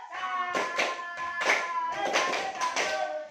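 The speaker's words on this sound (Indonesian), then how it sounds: "Berikan tepuk salut dulu untuk kelompok kewajiban" A class of students claps a rhythmic salute together in a classroom, with sharp clap bursts in a steady pattern mixed with group voices chanting along.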